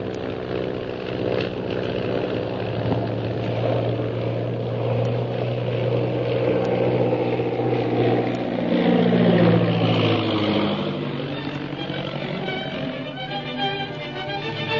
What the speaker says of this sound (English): Jim, I'm going to climb above the Purple Triangle plane without the pilot seeing us.